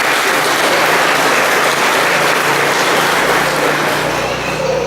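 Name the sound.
church congregation applauding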